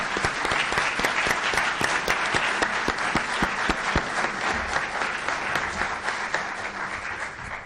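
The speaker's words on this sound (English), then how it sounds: "give a round of applause to Mayor Lisa Wong" An audience applauds after a 2015 mayoral general election debate, with sustained, dense clapping and distinct individual claps cutting through near the microphone, holding steady before easing slightly at the end.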